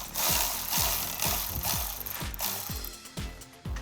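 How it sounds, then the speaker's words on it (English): A 7mm ratchet loosening a hose clamp on the air intake of a 2015-2017 Mustang V6, close and loud, with a rapid series of sharp clicking strokes at an uneven rhythm and no talk. "with a 7mm ratchet, you're going to remove this hose clamp"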